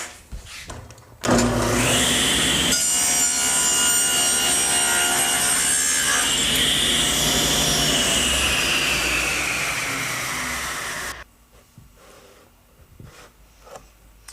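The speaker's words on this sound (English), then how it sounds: "While I was at the table saw, I cut the groove that we needed for the spline, but I also cut the left miter." Table saw cutting a miter in wood during cabinet building: a sustained, loud whining rip through the board after a brief motor spin-up, a steady roar that eases slightly before cutting off abruptly, then quiet room tone.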